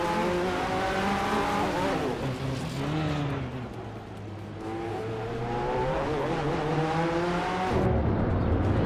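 Racing cars including a 2016 ADESS-03 Nissan LMP3 launch at the Rio de Janeiro mini track in a racing video game, engines revving and rising through gear shifts in loud, layered overlapping whines, with a sharp drop and change near the end.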